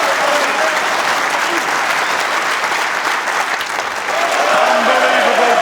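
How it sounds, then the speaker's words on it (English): The Crucible crowd at a snooker match applauds Ronnie O'Sullivan's break. The loud, dense clapping is sustained throughout, and a voice speaks faintly beneath it near the end. "what a reception Ronnie O'Sullivan gets from this crucible crowd"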